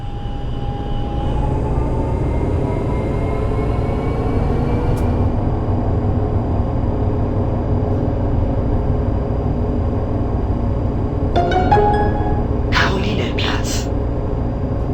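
Tram rolling through Munich in the TramSim Munich simulator, a steady low rumble and hum of motor and wheels throughout, with a few brief higher squeals and clanks near the end.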